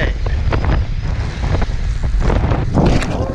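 Strong wind buffeting the microphone on a beach during surf fishing, a loud continuous rumbling roar with gusty swells.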